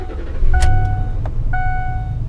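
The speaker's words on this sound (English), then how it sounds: "if I start the truck" A Ford F150 pickup with a faulty shift actuator cranks with a short whir, catches, and settles into a steady low idle, close and clear, with a couple of brief clicks and tones and no talking.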